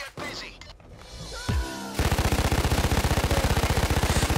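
Rapid automatic gunfire from the heist shooter Payday 2, on a mall heist at Death Wish difficulty, bursts in loud and sustained after a short stretch of quieter game sounds, with an even machine-gun rhythm near the listener.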